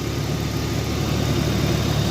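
A rebuilt Genesis G70 engine idles smoothly, giving a steady, even hum with a low, constant drone and no change in pace. Nobody speaks over it.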